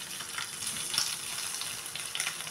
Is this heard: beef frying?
yes